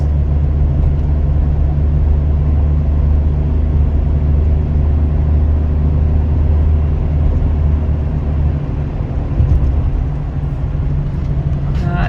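A 2001 Saturn L300 drives along a road, heard as a loud, steady low engine and road drone from inside the car that barely changes over the whole stretch.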